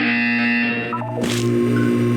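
A synthetic buzzer tone from the video game Portal 2, a steady electronic drone with a brief harsh burst in the middle, continuing alone without speech.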